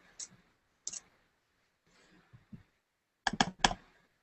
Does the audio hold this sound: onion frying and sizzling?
no